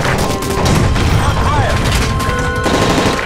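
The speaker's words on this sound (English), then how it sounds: "That's gunfire! Hijackers are taking the plane!" Dense automatic gunfire bursts from Call of Duty: Modern Warfare 3, set aboard a hijacked plane, loud and rapid with crashing impacts and shouting voices underneath.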